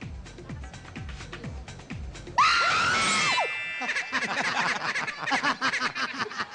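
People on a live variety show scream in fright, a sudden loud shriek bursting out after quieter chatter and rhythmic background sounds, followed by excited overlapping voices.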